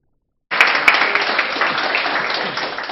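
Applause from a crowd starts abruptly after a moment of silence and holds steady as a dense, even wash of clapping.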